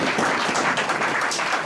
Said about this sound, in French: Applaudissez pour les gens qui ont dit ça c'est bon